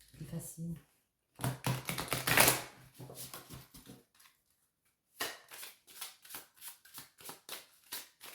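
Playing or tarot-style cards being shuffled by hand, a series of quick riffling, flicking bursts with short pauses between them, close and fairly quiet, with someone speaking at times.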